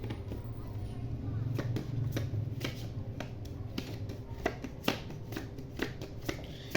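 Tarot cards being shuffled by hand, a rapid papery riffle with sharp repeated snaps and flicks, close and fairly quiet, with a steady low hum beneath.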